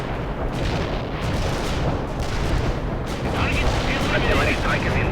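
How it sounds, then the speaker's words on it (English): Artillery strike pounding a battlefield in a war video game: a dense, continuous barrage of loud rumbling blasts and gunfire with no clear gaps, and voice-like sounds mixed faintly into the din. "Artillery strike is inbound."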